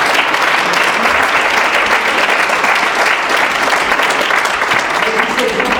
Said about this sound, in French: je pense quand même qu'on peut s'applaudir aussi